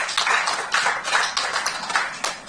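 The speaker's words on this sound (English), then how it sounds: "Please, a round of applause." Audience applause at a Rotary International district conference in Abuja, after an award is presented: steady, fairly loud clapping from many hands in waves, with no speech.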